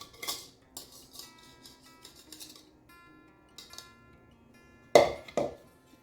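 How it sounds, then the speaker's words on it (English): Wet and dry pancake batter ingredients whisked in a bowl, quick metallic clinks and scrapes in short bursts separated by pauses, near and clear with no talk, ending in two louder knocks. "Give it a whisk, make sure it's all combined together"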